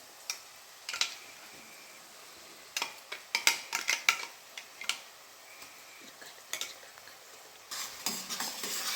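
Onions and chicken fry in a kadai with a soft steady sizzle while a spatula scrapes and clinks against the pan in irregular bursts, close and fairly quiet, with no talking.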